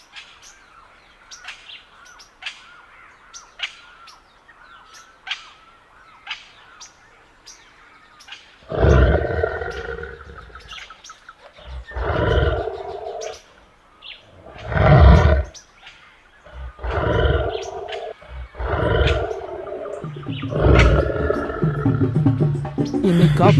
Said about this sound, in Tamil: இங்க சிறிது நாட்களாக புலி வலம் வருவதாக கேள்விப்பட்டுள்ளேன்